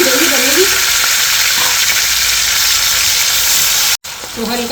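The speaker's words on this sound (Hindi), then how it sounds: "अब ये कद्दूकस किया हुआ जो प्याज है ना हमारा, इसको फ्राई करेंगे, इससे अच्छी ग्रेवी बनेगी।" Grated onion frying in hot oil with cumin seeds: a loud, dense, continuous sizzle right up close, with a faint voice under it at the start and end and a momentary dropout near the end.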